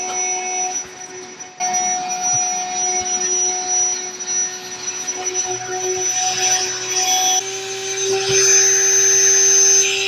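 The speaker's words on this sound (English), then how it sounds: "And you have inflate and deflate with this pump. So let's actually inflate it" The built-in electric pump of an iDOO queen air mattress runs continuously to inflate it. It makes a loud, steady, whining drone with a few small shifts in pitch and strength, and no voices.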